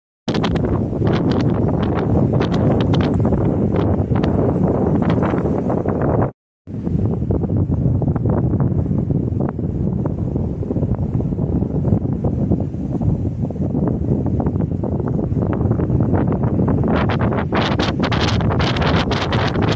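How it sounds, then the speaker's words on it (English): Strong wind buffets the microphone in heavy, roaring gusts on the Appalachian Trail, continuing throughout, dropping out briefly once before surging back. "Those gusts get pretty heavy"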